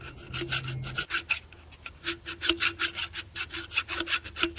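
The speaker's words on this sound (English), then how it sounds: "So I've got to file and just filing it down." A hand file rasps back and forth on a greenhouse frame part of a Shelter Logic portable shelter, steady rhythmic close strokes, about three per second, with no talk.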